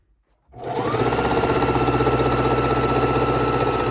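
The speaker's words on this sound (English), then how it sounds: "I still use the Singer heavy duty from time to time" Singer Heavy Duty sewing machine stitching quilt seams of half square triangles, starting abruptly from silence into a loud, close, rapid rhythmic hum and clatter that runs steadily without talk.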